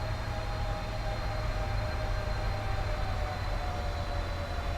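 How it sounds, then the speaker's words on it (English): Simulated jet engines of a PMDG Boeing 777 in Microsoft Flight Simulator drone in a steady, even hum with a faint high whine, constant and smooth throughout with no talking. "But listen to those engines purr, they sound so good."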